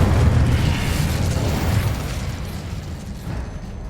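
Incendio fire spell blast in the Hogwarts Legacy video game, a loud roaring burst of flame with a heavy low rumble that slowly fades over a few seconds, with no talking.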